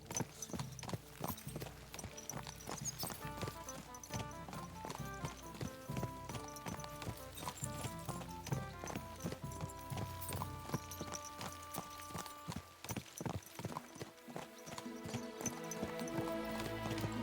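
Steady horse hooves clip-clop at a walking pace over a background of music, with brief faint voices, in the game Kingdom Come: Deliverance II.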